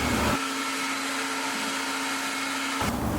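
A vacuum cleaner runs over a wooden floor just sanded with an 8-inch drum sander. Its steady, loud motor drone switches on after a brief moment, holds evenly, then cuts off near the end.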